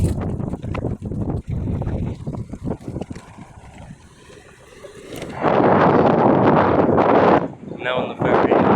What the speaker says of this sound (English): Now on the ferry, and this is what it looks like.